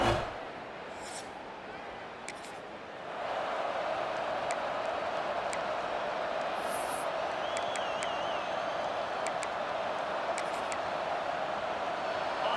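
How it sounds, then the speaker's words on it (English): Stadium crowd in an EA Sports College Football game, Missouri at Texas: a steady roar of spectators swells after a brief quieter opening and holds loud and constant, with faint announcer talk and a few whistles or cheers on top. "This crowd ready to make its presence known."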